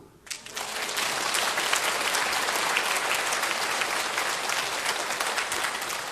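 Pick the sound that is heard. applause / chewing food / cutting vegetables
applause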